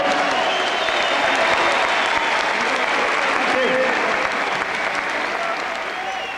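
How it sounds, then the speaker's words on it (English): A big arena crowd at the M.E.N arena applauds at the Ricky Hatton vs Ben Tackie boxing match, a sustained roar of clapping and cheering that stays loud and even throughout, with a voice talking over it. "I'll give a round of applause to Ben Tackie"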